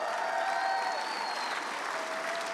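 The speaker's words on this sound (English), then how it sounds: "give yourself a round of applause" A large crowd of fans applauds steadily at a university baseball welcome celebration, a dense sustained clapping roar with a few whistles cutting through.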